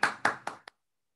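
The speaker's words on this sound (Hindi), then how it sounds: "मिलकर ताली बजा के प्रभु को धन्यवाद करेंगे" A group claps hands together to thank the Lord at a Christian worship meeting, four sharp claps in quick succession fading out, then silence.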